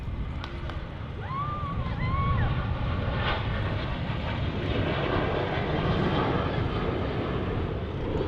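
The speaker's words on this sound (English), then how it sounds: "there's another plane moving" Airplane taxiing at Manchester Airport, a steady broadband jet-engine roar held loud and continuous throughout, with faint distant bird chirps and a voice heard briefly early on.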